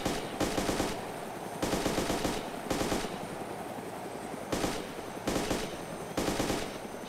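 Gunfire in the DayZ video game, loud rapid bursts of automatic fire repeating in several sustained volleys with short gaps between them.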